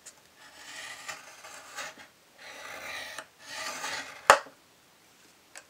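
Stylus scoring thick cardstock, several soft scraping strokes one after another, close and quiet, ending with a sharp tap.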